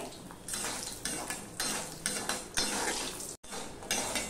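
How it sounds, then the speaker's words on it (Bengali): Lentil bori fry in salted oil in a kadai, heard as a faint sizzle under repeated metallic scraping strokes of a spatula against the pan, coming in a steady rhythm. "বড়িগুলো ভেজে নেব।"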